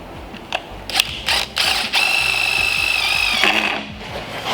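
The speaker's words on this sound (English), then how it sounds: "So let's drill them in." A power drill driving fasteners to mount an ignition coil kit on a Pajero engine build, a few short revving bursts followed by a sustained whining spin, close and loud.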